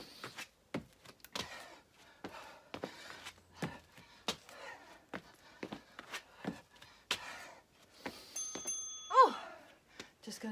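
A workout interval timer bell sounds during a bodyweight HIIT session, a clear ringing tone near the end standing out over scattered footsteps and movement thumps.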